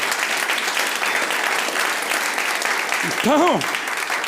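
Steady audience applause fills a business gathering, even and continuous throughout, with a brief rising voice or whoop cutting through near the end.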